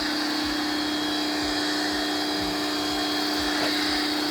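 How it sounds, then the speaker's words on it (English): A pressure washer foam cannon sprays soap over a ceramic-coated car, giving a steady, loud, unbroken hiss and pump drone throughout with no talking. "you're gonna foam cannon this whole thing"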